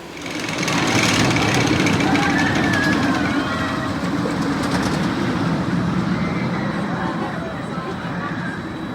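An RMC roller coaster train at Kentucky Kingdom rumbles along its compact track at night, a steady loud roar of wheels and structure with rattling overtones that holds for several seconds.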